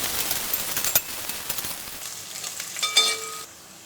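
Shallots sizzling in a pan with minced meat for a Kerala-style idiyirachi fry, a steady close crackle with a few stirring clinks and scrapes, no talking.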